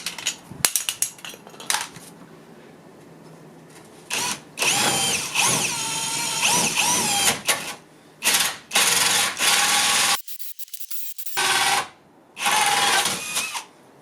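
A power drill with a hole saw whines in several bursts of cutting into an exhaust's metal, each starting and stopping abruptly, loud and close, with clinking metallic handling noises between them.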